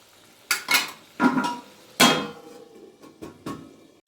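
Metal cookware clatters in a home kitchen as a lid goes onto the pan of spicy egg curry (egg kosha), several sharp clanks and rattles spaced over a few seconds, close and fairly loud, with no one talking.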